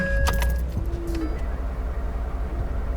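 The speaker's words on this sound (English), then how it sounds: "fire that truck up and let's get on down the road" Outdoors on a public-land hunting trip, keys jangle at the start, then a truck engine turns over and settles into a steady, close, low rumble that continues to the end.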